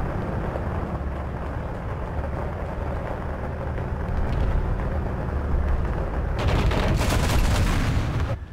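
Heavy, rapid 30 mm cannon fire in a video game: a dense, booming roar that swells into sharper, louder bursts toward the end.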